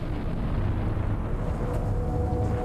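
Deep beneath Mount Toba, a supervolcano erupts in a massive magma explosion, heard as a continuous heavy low rumble and roar without distinct blasts, loud and unbroken throughout.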